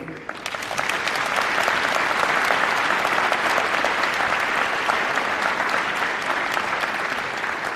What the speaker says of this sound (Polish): Proszę Was jeszcze o oklaski dla naszych laureatów.